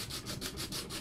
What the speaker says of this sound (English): And then, just sand away.